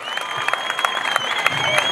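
Applause from a crowd at a Turkish folk festival honouring a poet, greeting mayor Kadir Yavuz as he is called up; steady clapping with a few sharper claps, a sustained tone over it, and faint voices underneath.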